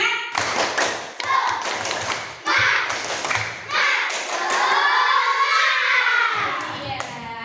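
A primary school class claps hands in rhythmic patterns during a lesson, sharp bursts of group clapping in short sets, with children's voices chanting over the later part.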